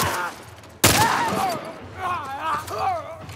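One sharp loud gunshot in The Last of Us combat cracks out right after a brief lull, followed by ringing and people talking over the noisy action.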